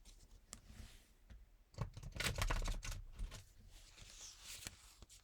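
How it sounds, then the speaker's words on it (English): A deck of playing cards being shuffled, one burst of riffling and flicking card edges close by, busiest in the middle of the passage, with no voices. "I'm going to do my first shuffle thing"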